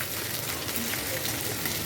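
Finely chopped onions fry in oil for a Bengali fish curry, giving a steady, even sizzling hiss that holds at a moderate level without pause.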